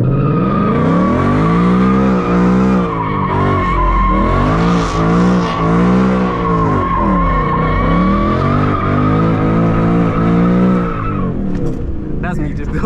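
A Mustang GT slides with spinning tires, a loud sustained squeal over a roaring engine that wavers in pitch as the car drifts, with voices talking over it.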